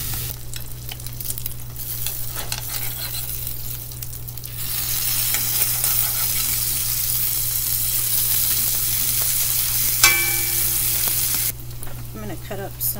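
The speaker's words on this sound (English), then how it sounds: "And I'm gonna let that sizzle." Steady, broadband sizzling of food frying in a pan, loud and continuous throughout, with a brief clink partway through.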